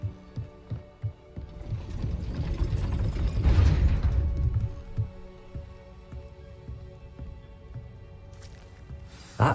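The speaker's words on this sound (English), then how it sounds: "That looks as if it might raise the gate." A gate mechanism grinding upward in the Hogwarts Legacy video game, rising mechanical rumble with ratcheting clicks and clanks, swelling loud around the middle and then settling into intermittent knocks.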